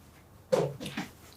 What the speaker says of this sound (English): dog's going nuts over here